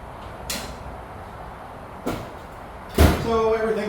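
A US General tool box end cabinet door swings shut in a sloped garage, landing with a soft thud followed by a louder knock near the end, with a low hum and a few faint clicks before it.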